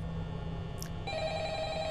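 An in-game telephone in the VR horror game Five Nights at Freddy's: Help Wanted rings faintly and steadily in an electronic tone over a constant background hum.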